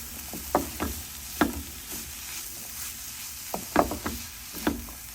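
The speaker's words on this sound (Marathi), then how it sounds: "आता हे पुन्हा एकदा हलवून घेऊया" Grated vegetable stirred in a pan, a spoon scraping in a few distinct strokes over a soft, steady sizzle, close and fairly quiet with no talking.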